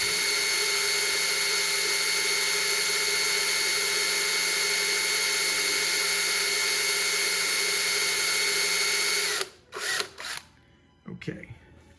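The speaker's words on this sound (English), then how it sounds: "I'm going to actually do this on the drill press in the machine area." A drill press boring pilot holes in a shop machine area, with a loud steady motor whine holding for about nine seconds before it spins down and gives way to scattered clanks and handling noises.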